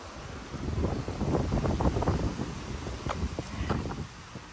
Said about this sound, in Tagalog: Yan na lang hangin.